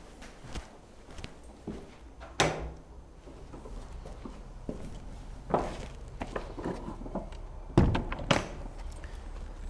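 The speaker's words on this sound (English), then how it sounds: "That's a door." A door opens or closes inside a church, with several dull thunks and knocks spread over the clip, some louder bumps near the start and end, amid quiet footsteps and room reverberation.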